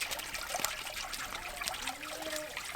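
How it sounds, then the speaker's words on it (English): Fresh water running from a hydrant on a goat farm, a steady trickling, splashing stream heard close and continuous. "Daisy, we got you some fresh running water, girl"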